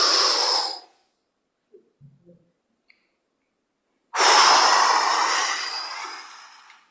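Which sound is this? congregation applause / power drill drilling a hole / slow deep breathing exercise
slow deep breathing exercise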